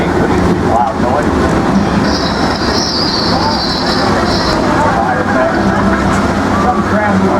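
The Universal Studios Hollywood studio tour tram rolls along with a constant loud rumble and wind-like noise, a brief high whine in the middle, while people talk over it.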